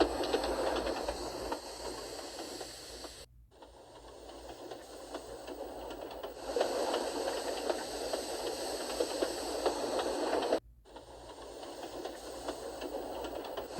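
Steam engine Gordon puffing away from a station, a continuous hissing, chuffing rail sound with steam, steady and moderately close, interrupted by two brief silent cuts.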